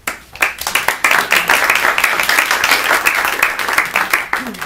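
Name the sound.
audience applause welcoming candidates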